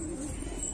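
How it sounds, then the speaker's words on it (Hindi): A domestic pigeon kept by a Hindi-speaking fancier coos once, a soft low throaty note heard close by against faint outdoor background noise. "ये है चौथा कबूतर"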